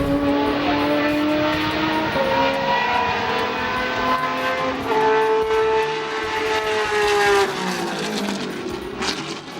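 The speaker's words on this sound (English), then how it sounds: "The McLaren F1" A McLaren F1 GTR's engine howls loud and steady, its revving pitch climbing and dropping in smooth sweeps with no talk over it.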